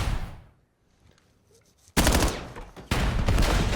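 Gunfire in an esports shooter video game match: after a near-silent pause, loud rapid automatic bursts erupt, with a second dense volley starting a moment later, close and sustained.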